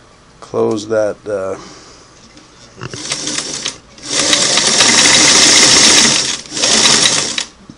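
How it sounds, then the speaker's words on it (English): A Singer Model 338 sewing machine runs a dense zigzag satin stitch at about 18 stitches per inch, giving long steady mechanical whirring bursts that start and stop, with a brief voice at the start. "I'm going to go almost up the satin stitch, like about 18 stitches per inch"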